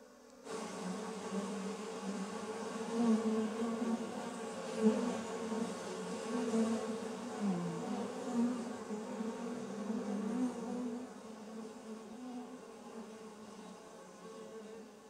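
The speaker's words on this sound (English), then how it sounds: "So here we hear the bees." A swarm of bees buzzing continuously, a thick droning hum that swells and wavers, close and fairly loud, easing slightly toward the end.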